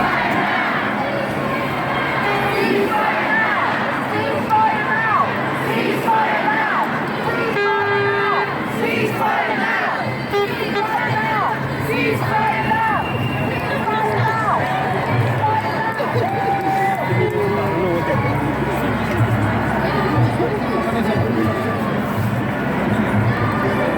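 A dense crowd at a street protest, with continuous loud shouting, chanting and cheering surrounding the listener at close range, and many voices overlapping throughout.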